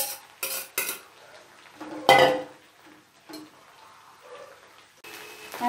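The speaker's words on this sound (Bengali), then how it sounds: "এবারে যে সবজিগুলো ভেজে রেখেছিলাম ওটা দিয়ে দেবো, দিয়ে আমি ভালো করে মিশিয়ে নেব" Fried vegetables being stirred into fried rice in a pan, heard as scattered scraping strokes and metallic clinks of a utensil against the pan, close and intermittent with quiet gaps between.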